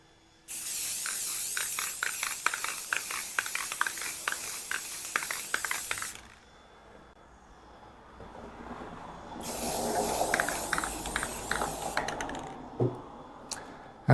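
Spray paint applied in light coats to Halloween craft projects, two long hissing bursts of aerosol spraying with clicking between them, close and fairly loud, separated by a quieter pause.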